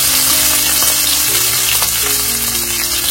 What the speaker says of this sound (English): While my potatoes are frying